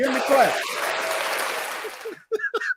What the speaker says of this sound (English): Give them the claps.